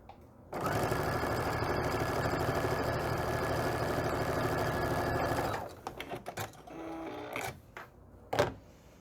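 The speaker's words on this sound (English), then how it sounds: "I'm going to flip this around and sew another seam." A sewing machine runs steadily for about five seconds, stitching a seam on a table runner with a fast, even whir, then stops, followed by a few faint clicks and handling sounds.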